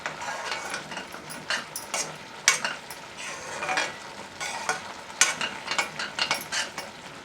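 Sago and sugar barfi mixture being stirred in a pan, with a steady soft sizzle under repeated scraping strokes and occasional sharper clinks of a spoon against the metal, close and fairly loud.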